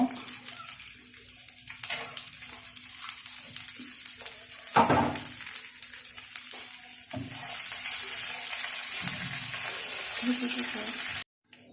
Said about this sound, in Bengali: এরপরে আমি এটার মধ্যে দিব কিছু বাদাম আর কিশমিশ, এগুলো আমি ভেজে নিব।